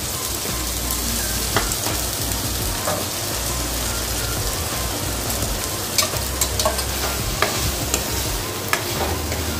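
A halved bay leaf sizzles in hot oil in a pan for a Bengali coconut and ash gourd dish, with steady close frying crackle and scattered scraping stir clicks, no talk.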